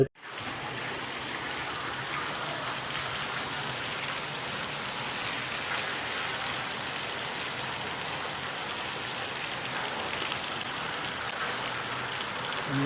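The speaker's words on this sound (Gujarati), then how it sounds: "આનો મુસળધાર વરસાદ કહેવાય" Dense, steady roar of torrential monsoon-style downpour pouring down close by in a Gujarat village, unbroken hiss lasting the whole stretch with no voices.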